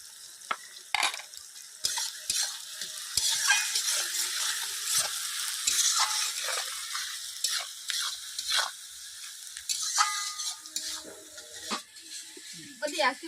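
Onion and tomato sautéing in a pan, with a continuous bright sizzle broken by scraping, stirring clicks and clatters from a utensil, close and fairly loud throughout.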